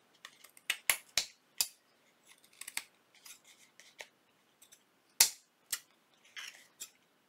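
Scissors snip repeatedly at close range, sharp irregular cuts with brief pauses between them, fairly quiet overall.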